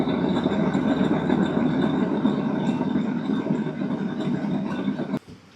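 Worn idler pulley bearings spin noisily in a steady, dense whir with a rough grinding texture, loud and close, running continuously before cutting off abruptly near the end.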